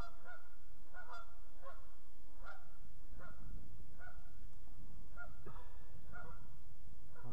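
A flock of geese honks again and again near an abandoned papermill and railroad bridge, loud overlapping calls in a rhythmic series against steady background noise.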